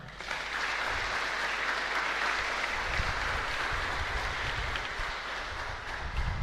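A Mass congregation in a chapel at Costa Sosa, Luque, claps in a dense, sustained round of applause that holds steady throughout.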